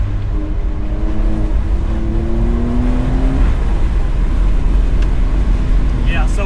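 Porsche 992.2 Cabriolet engine pulling hard up the Großglockner mountain pass, a loud close-up drone with rising then shifting engine tones as the car accelerates and changes gear, heard continuously from inside the open car.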